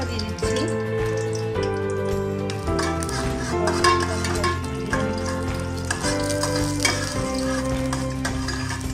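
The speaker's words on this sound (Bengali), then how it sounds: "আমার মশলাটা ভাজা হয়ে গেছে" Ground cumin, ginger and garam masala paste fries in hot soybean oil with a crackling sizzle under loud, steady background music.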